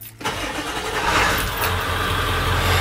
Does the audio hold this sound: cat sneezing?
no